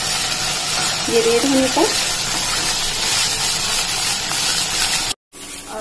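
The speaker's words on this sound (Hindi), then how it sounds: "कटी हुई भिंडी मैं थोड़ा फ्राई कर लूंगी, इसको तेज आंच पे फ्राई कर लूंगी।" Chopped okra fries over high heat with a steady, loud sizzling hiss, while someone speaks briefly over it; the sound cuts out for a moment near the end.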